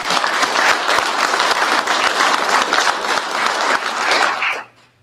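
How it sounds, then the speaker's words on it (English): Loud, sustained audience applause at a drag racing awards ceremony, dense clapping filling the room before cutting off abruptly near the end. "so let's give him a round of applause."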